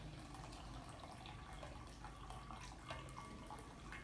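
Hot water pours steadily into a bottle in a classroom-style science demonstration, a continuous close splashing stream with small drips throughout, no voices.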